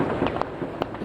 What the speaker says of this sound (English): get those cracks of gunshot coming from the Jenin refugee camp